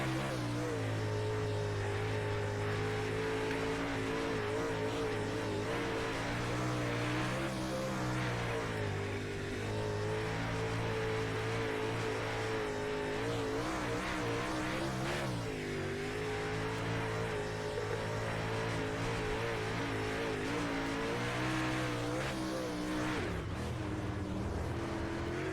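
Super late model race cars racing at Charlotte Speedway, engines roaring and revving continuously with rising and falling pitch as cars pass, loud and sustained for over twenty-five seconds with no clear talk.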